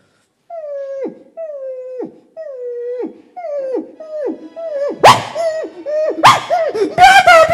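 A man vocally imitates a dog answering back, with a string of rising then falling howls and whimpering yelps close up, ending in sharper yips and laugh-like barks.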